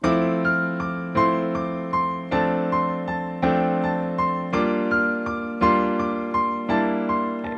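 Piano chords repeat in a steady pattern while a jazz pentatonic melodic line improvises on top, played alone with clear, evenly spaced attacks.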